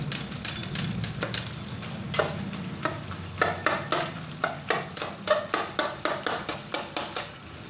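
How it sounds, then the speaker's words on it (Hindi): A spatula scrapes and stirs chicken and peeled tomatoes in a hot karahi for charsi karahi, a steady rhythmic series of clanking strokes over continuous sizzling frying, close and clear with no talking. "अब हम इसको तकरीबन 4 से 5 मिनट अच्छी तरह से भून लेंगे"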